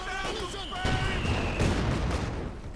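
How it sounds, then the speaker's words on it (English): Mortar and artillery fire thump and boom in a Company of Heroes 2 battle between OKW and Soviet forces, several close blasts over a rumbling low bed while a commentator talks throughout. "And there's the mortar team announcing its presence."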